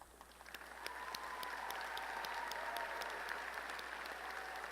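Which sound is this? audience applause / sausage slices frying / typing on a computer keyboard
audience applause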